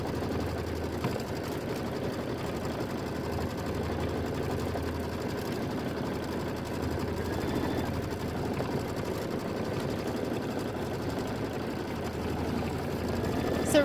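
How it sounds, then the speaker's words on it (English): Sewing machine stitching a quilt, a steady faint motor hum with fine needle clatter running continuously, low and even in level, with a few soft handling noises. "This is going to be 3 minutes of stitching."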